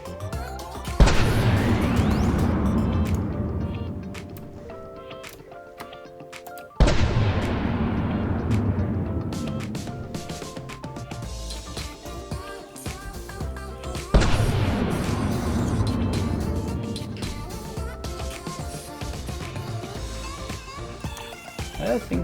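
Three thunderous volleys from 16-inch triple main turrets on a replica Iowa battleship in the From the Depths naval combat game, each a sharp blast with a long rolling, crackling decay, spaced roughly seven seconds apart.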